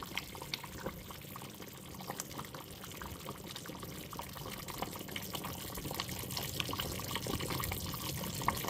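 Canned kidney beans are drained and rinsed at a kitchen sink, water running and pouring in a continuous, splashy stream that grows slightly louder over several seconds, with no voices.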